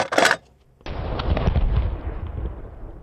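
One thunderous gunshot from an AK-50 rifle, a hard close blast followed after a short gap by a long rolling echo that fades slowly outdoors.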